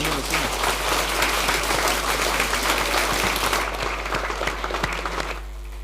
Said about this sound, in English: please one more round of applause Ah, yeah. for Franco.